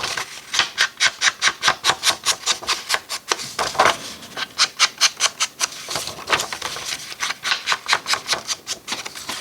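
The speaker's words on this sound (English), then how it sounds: "We will just ink this real quick." Ink pad rubbed along paper edges for a journal envelope insert, a rapid series of dry, scratchy back-and-forth strokes in quick rhythmic bursts, close and fairly loud, with no talking.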